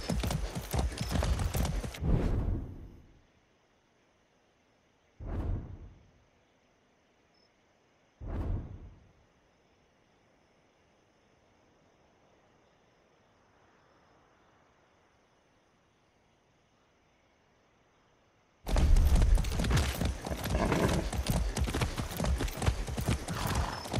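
Horse hooves clip-clopping with a whinny in the video game Far Cry 6, loud trotting at the start and end, two short sharp bursts between, and a long quiet stretch in the middle.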